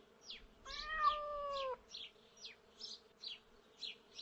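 A cat meows once in a drawn-out, clear call, followed by a series of short buzzing insect-like chirps, fairly close and with no talking.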